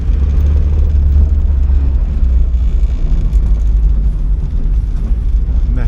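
A 1979 Porsche 924 engine runs loud and steady close by, with a continuous low rumble and no speech over it.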